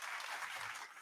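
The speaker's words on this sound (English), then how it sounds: "Oh, the applause." Canned applause sound effect played from a podcast soundboard, a brief dense burst of many clapping hands at low level with no voices over it.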